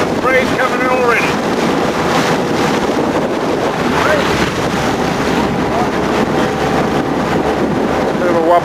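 A breeze buffets the microphone on a small boat setting off on the Mekong, with constant rushing wind and water wash and a brief voice near the start.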